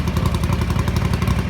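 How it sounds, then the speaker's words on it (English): A bevel-drive motorcycle engine idles fairly high during carburettor mixture and idle tuning, with a loud, close, rapid uneven chuff like it is firing on one cylinder, steady throughout the short burst. "when we had it idling relatively high, you can hear it would sound like it was running on one"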